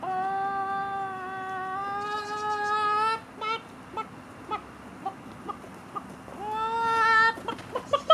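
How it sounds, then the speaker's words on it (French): Chicken at a sheepdog event in Aurillac: a long, loud, drawn-out squawk, then a series of short clucks, and another long screech near the end, close and clear with no talking. "C'est une poule, il faut pas l'attraper"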